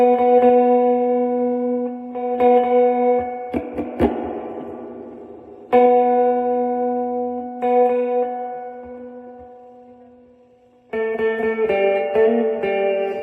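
Electric guitar chords ring out with a shimmering chorus and light overdrive, each strum sustaining into a reverberant tail, with pauses between phrases.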